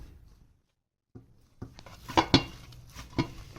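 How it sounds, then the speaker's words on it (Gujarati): Kachori dough for mung dal kachori is mixed by hand with water in a bowl, giving quiet scraping and a few sharp clinks against the vessel after a brief silence. "હવે આ બધું મિક્સ કરી તેનો પાણી નાખી સેમી સોફ્ટ લોટ બાંધશું"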